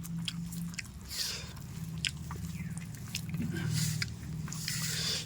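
Eating rice mixed by hand with mashed boiled potato, masoor dal and chili gives soft, wet squishing and chewing close up, in a continuous, uneven rhythm.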